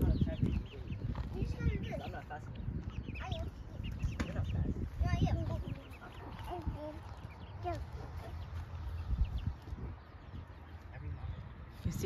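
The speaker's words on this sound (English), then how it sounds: "Chicken." Chickens cluck on a hill outdoors, fairly soft and intermittent beneath steady chatter from children.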